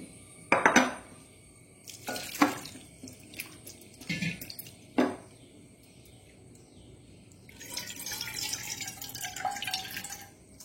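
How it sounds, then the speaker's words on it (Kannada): Flattened rice (avalakki) being rinsed in a bowl of water for rava patholi, with a few separate splashy sloshes and clinks of a vessel, then a steadier stretch of running, swirling water near the end, up close with no voices. "ಅವಲಕ್ಕಿ ತೊಳೆದುಕೊಳ್ಳೋಣ. ತೊಳೆದುಕೊಂಡು ಚೆನ್ನಾಗಿ ತೊಳೆದು 2 ಸತಿ ತೊಳೆದುಕೊಳ್ಳೋಣ."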